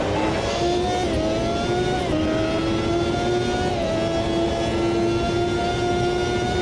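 Porsche 908 race car engine in a racing sim, a sustained loud high-pitched engine note that rises and dips with gear changes and throttle, continuous throughout with no talk.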